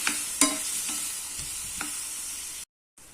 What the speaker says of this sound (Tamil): தக்காளி வதங்க மட்டும் கொஞ்சமான உப்பு சேர்த்துட்டு இது தக்காளி நல்லா வதக்கி எடுத்துக்கலாம்